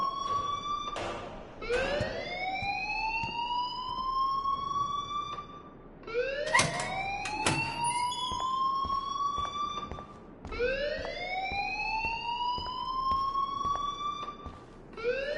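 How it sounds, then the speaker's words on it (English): A fire alarm wails in the video game Life is Strange, its loud rising electronic tone sweeping upward in three long repeated cycles, with sharp clicks between them and no voices. "please turn off that alarm since that's your job"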